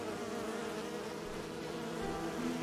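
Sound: swarm of buzzing bees in the video game Enderal

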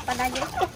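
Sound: Shamo chicken clucking

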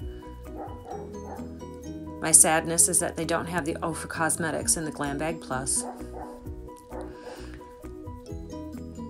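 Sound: dog barking and whimpering

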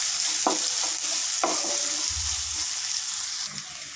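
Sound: onions frying in a pan

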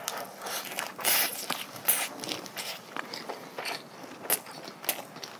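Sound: person chewing food

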